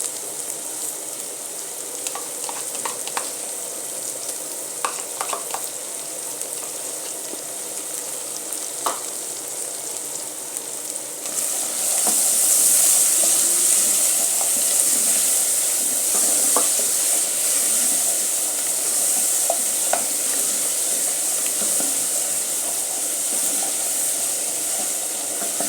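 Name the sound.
tomato paste frying and being stirred in a pan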